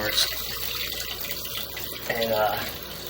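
A water jetter hose sprays into a pipe with a steady, fairly quiet rushing hiss that swells slightly near the end. A faint voice can be heard beneath it.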